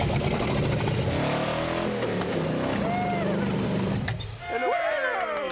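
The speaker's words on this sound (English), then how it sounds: "Am I mistaken, or did I hear the purring of an engine?" A homemade car dozer's engine, fed with the choke held open, turns over and settles into a throaty running rumble close by, with people talking over it and a brief dip before it carries on.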